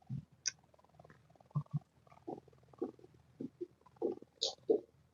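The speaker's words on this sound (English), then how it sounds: "My cat is throwing up on my nose." A pet cat retching and heaving to throw up, a run of low, wet, gulping spasms at close range, irregular and building, with a couple of sharper higher sounds near the end.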